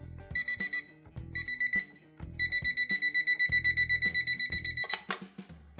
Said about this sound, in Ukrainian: Тим не менш, будильник доволі голосний.